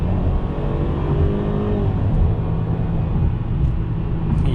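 A 2021 Mercedes-Benz C300 under way, its engine note rising steadily as it accelerates beneath constant road and tyre rumble, heard from inside the cabin with no talking.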